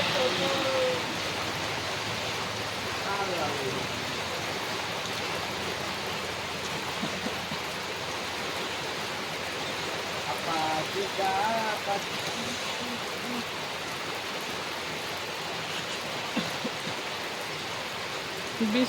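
Heavy rain falls as a steady, dense hiss that runs unbroken throughout. Faint voices or bird-like sounds are buried underneath it.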